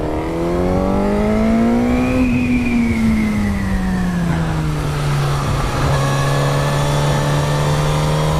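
A motorcycle is ridden around a track, its engine note loud and close, rising, then easing down and levelling off into a steady drone.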